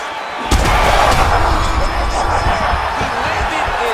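Heavy punch landing in EA Sports UFC 5, a Renato Moicano versus Makwan Amirkhani fight, giving one sharp, loud impact thud followed by sustained crowd roar and commentary-like voices underneath.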